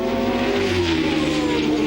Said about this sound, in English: you heard the exhaust note incidentally there of Riccardo Patrese, and who is suffering a cracked exhaust